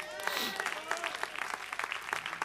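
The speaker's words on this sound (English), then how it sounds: "Clap, anybody." A church congregation breaks into clapping during a sermon, a short burst of uneven, lively claps with a few voices calling out over it.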